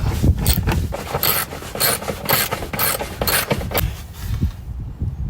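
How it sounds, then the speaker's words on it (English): Nuts being tightened on a 2000-05 Toyota RAV4 EVAP charcoal canister: a close, rhythmic series of rasping ratchet clicks in repeated bursts, easing off near the end. "Go ahead and tighten those nuts up."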